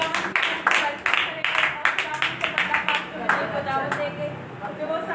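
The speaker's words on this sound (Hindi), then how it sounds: "यीशु के नाम में जोरदार तालियों में" A Pentecostal church congregation bursts into a loud round of rhythmic clapping at a Sunday service, with dense, steady hand claps filling the room and no voices heard over them.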